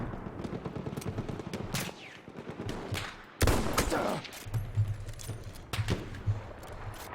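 Gunfire in the Battlefield 1 beta, bursts of rapid automatic shots and sharp single cracks, with one loud close blast midway and scattered firing around it.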